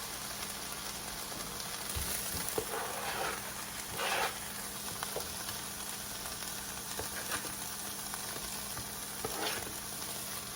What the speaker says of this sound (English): We're just going to saute this for just like another minute